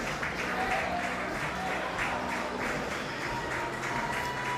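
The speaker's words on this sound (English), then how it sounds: "So there we have the Slovakian supporters in the crowd." Steady applause and crowd noise from supporters at a wheelchair para table tennis doubles gold medal match, a continuous even wash of clapping with faint voices mixed in.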